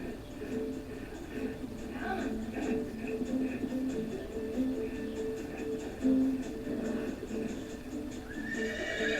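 A horse neighs and whinnies repeatedly over hoof clip-clop and background voices, with a sharper, louder cry near the middle.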